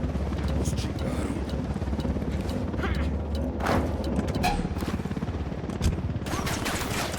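A helicopter in the Ghost Recon Wildlands combat game thrums under a steady low rotor beat, mixed with bursts of gunfire, impacts and shouted voices.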